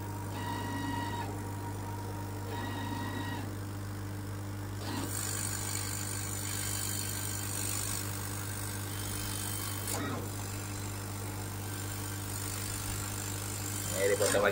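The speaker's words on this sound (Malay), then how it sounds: "so sekarang ni mesin dah ready untuk potong" A workshop machine cutting the push-button section of a part for a custom GoPed: a constant low electrical hum underneath, with longer stretches of harsh, hissing cutting noise that start and stop abruptly, close by.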